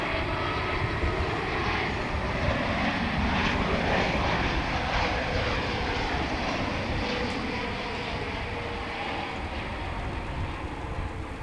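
A fixed-wing airliner landing on runway 17 at DFW Airport, its engines roaring broadly and loudly, swelling then easing slightly as it passes, with no voices heard.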